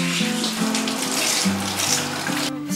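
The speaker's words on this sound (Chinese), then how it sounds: "今天买了三斤的胡萝卜，我们先将它洗干净。" Three jin of carrots being washed under a running kitchen tap, a steady close rush of water with shifting splashes as the carrots are turned in the stream.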